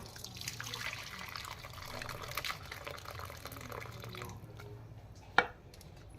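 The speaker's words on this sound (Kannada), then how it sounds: "ಮಿಕ್ಸ್ ಆದಮೇಲೆ ನೋಡಿ ಈ ನೀರನ್ನ ಸಪ್ರೇಟ್ ಮಾಡ್ಕೋಬೇಕು" Water being drained off boiled lentils for belesaru, a steady low trickle and pour with faint dripping, ending in a single sharp clink near the end.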